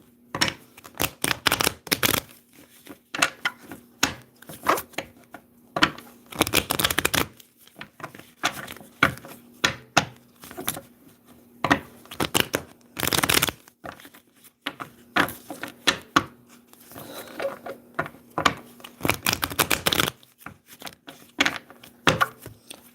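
Tarot cards being shuffled by hand during a reading, heard as continuous close riffling and slapping bursts in irregular rhythm, with a steady low hum underneath and no talk.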